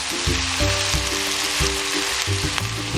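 Vegetables stir-fry in a hot pan with black pepper, soy sauce and oyster sauce, a loud continuous sizzle close up, broken by rhythmic scraping strokes of the stirring utensil.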